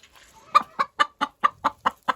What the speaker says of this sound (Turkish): Şimdi ben şu tavuğu kaldırayım yoksa bizi bu konuşturmayacak.